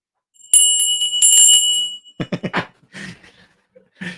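A bell rings out in loud, shimmering strikes over about a second and a half, followed by a few short knocks and faint voices, all from a live UFC Fight Night reaction stream.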